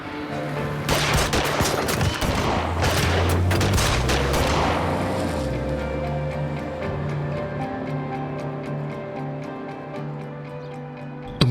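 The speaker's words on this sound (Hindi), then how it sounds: "हमारे घर पर गोलियां चली हैं" A burst of rapid gunshots fired at a house crackles loudly for several seconds, then fades into a lingering hum with faint ticking clicks.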